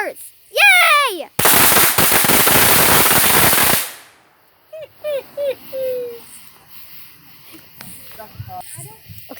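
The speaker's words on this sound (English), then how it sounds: "Okay guys, we're fixing to do my firecrackers" A string of firecrackers goes off outdoors in one loud, dense crackling burst lasting a couple of seconds, followed by excited voices and cheering.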